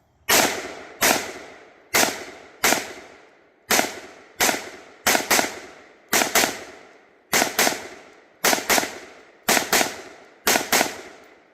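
A Sugar Weasel rifle fitted with a Trijicon Credo 1-6 scope fires a string of about a dozen loud, sharp gunshots, some as quick doubles, each with a short echoing decay and no talk between them.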